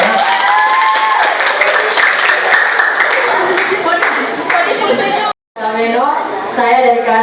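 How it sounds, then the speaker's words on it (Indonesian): Students at a Catholic senior high school assembly applaud, a sustained wash of clapping mixed with children's voices and chatter, briefly cutting out before voices continue. "Tepuk tangannya mana?"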